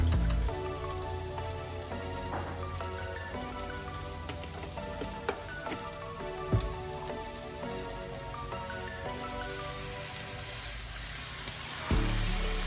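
Milk poured into a pan of cooking turkey mix sizzles under a faint, steady crackle with occasional soft clicks, a quiet continuous frying sound with no voices.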